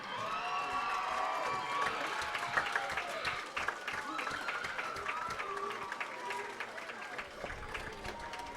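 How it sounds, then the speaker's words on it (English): A high school football crowd applauds the homecoming court, with sustained clapping and scattered cheers at moderate distance, mixed with background chatter. "How about one more round of applause?"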